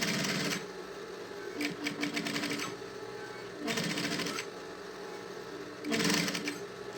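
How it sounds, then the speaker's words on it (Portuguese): An industrial straight-stitch walking-foot sewing machine runs over synthetic fabric in three bursts of rapid, close mechanical stitching, separated by quieter pauses filled with lighter clicking and handling. "Até tô costurando aqui, tinha aí uns 5 meses que eu não fazia nada de sintético na minha máquina reta industrial."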